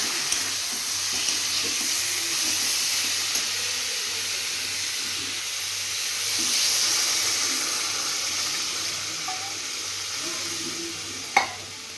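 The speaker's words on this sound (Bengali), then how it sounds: "কষানো হয়ে গেছে, এবার জল দিয়ে দেব।" Water poured into a pan of sautéed bean, potato, tomato and fish curry gives a steady sizzling hiss with soft stirring scrapes, a brief swell midway and a sharp clink near the end.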